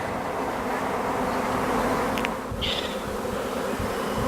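A swarm of honeybees arrives at a nuc hive, their dense, steady buzzing close and continuous throughout.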